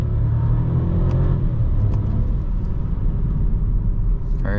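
Inside a 2022 Volkswagen Taigo crossover with a 1.0 TSI engine and DSG gearbox, a steady low engine rumble runs throughout, and a brief change near the end suggests a gear shift.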